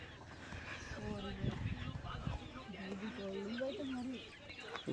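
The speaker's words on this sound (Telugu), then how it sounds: "లోపల కోడి ఉంది." A chicken clucking inside a hen house in a hill-tribe village, faint and intermittent beneath nearby talking voices and outdoor ambience.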